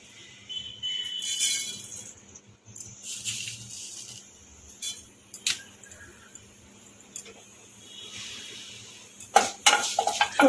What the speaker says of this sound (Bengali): এই যে সর্ষে ফুটতে শুরু করে দিয়েছে